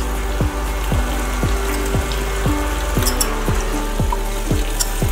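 Potato pieces sizzle in hot spiced oil in a pan, giving a steady, close frying hiss, with a regular soft knocking pulse beneath it about twice a second.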